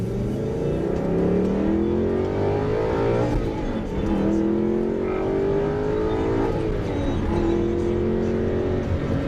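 A Porsche or Aston Martin sports car engine revs up with rising pitch, drops briefly at a gear change, then climbs again; steady and loud, no talking.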